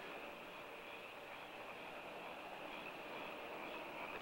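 A train rumbles steadily and continuously, a dense broadband roar of railroad cars rolling along the tracks, heard alone without voices.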